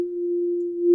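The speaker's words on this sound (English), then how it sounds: "something like a sine wave only has one tone" A steady sine wave test tone generated in FL Studio, a single pure pitch held evenly for about a second with slight swells in loudness and no other sounds.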